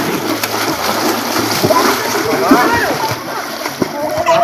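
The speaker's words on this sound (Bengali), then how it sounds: "হ্যাঁ, সাঁতার কাট, লাফাচ্ছি না, সাঁতার কাটবো।" Water splashes and sloshes in a private swimming pool as people swim, with irregular close splashes under ongoing chatter from several voices.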